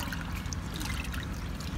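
Color-and-white laundry liquid and a multipurpose bleaching powder are whisked into water in a basin, giving a soft, continuous sloshing and trickling close by, with no talk.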